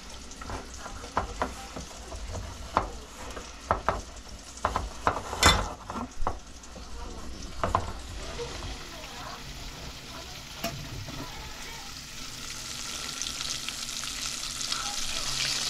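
Breaded buffalo chicken wings fry in a pan with a steady sizzling hiss, broken early by repeated clinks and scrapes of utensils against cookware before settling into continuous frying.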